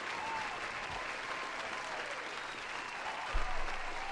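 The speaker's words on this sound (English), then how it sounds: "Another round of applause there." A round of applause on a gaming podcast sounds as a steady, even hiss of many hands clapping, with a soft thump near the end.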